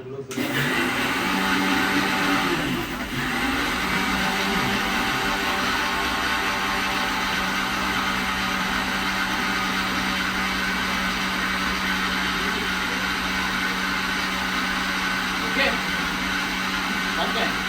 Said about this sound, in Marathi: आता परत हे मगाशी जसं केलं ते आपण मिक्सर मध्ये